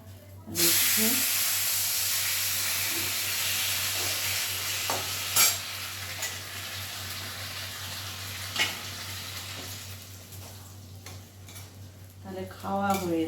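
Leftover food, including biryani, reheats in a pan with a steady close sizzle and hiss. Occasional stirring scrapes and clinks sound over it, and a voice speaks briefly near the end.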